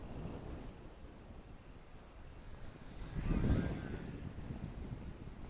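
A brushless Eachine Mini P-47 RC model plane with a 500mm wingspan makes a steady whining drone under gusty wind, swelling louder as it passes overhead around the middle, then settling back to a distant hum.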